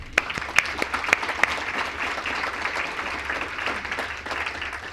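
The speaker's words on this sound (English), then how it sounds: "So we'll give them a round of applause." Audience applause at an environmental excellence awards ceremony, with several sharp nearby claps at the start giving way to a steady wash of clapping from the crowd that slowly tapers off.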